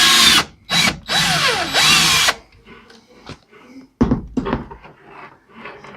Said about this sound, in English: when you're drilling your hole, you want to make sure that you don't go through to the other side